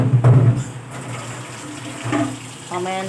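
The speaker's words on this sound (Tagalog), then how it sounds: "Bigyan natin ng tubig." Water poured into a cooking pan of chop suey vegetables, a close, continuous gush and trickle from a faucet-like stream, with a brief clatter at the start and a soft voice near the end.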